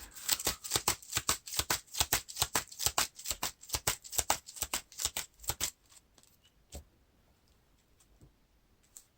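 A deck of game cards from a card game being riffle-shuffled, a rapid run of crisp clicking flutters repeated several times, then a few isolated taps before going quiet.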